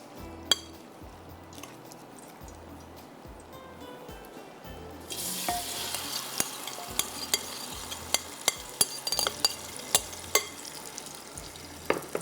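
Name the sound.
mixing qeema with tomatoes in a clay pot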